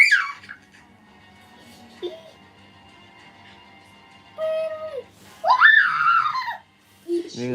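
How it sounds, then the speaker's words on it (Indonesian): Children shrieking and squealing while playing with inflatable balloons at night, loud high-pitched screams in bursts at the start and again midway, with voices talking between them. "Ini nggak usah teriak-teriakan ah"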